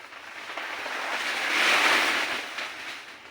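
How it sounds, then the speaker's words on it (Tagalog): A broad rushing hiss of heavy rain on a banana plantation swells and fades, loud and continuous with no talking. "Sobrang ulan."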